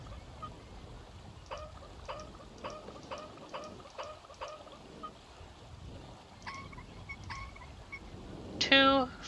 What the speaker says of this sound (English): I love that there are birds.